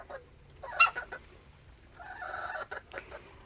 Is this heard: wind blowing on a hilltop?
no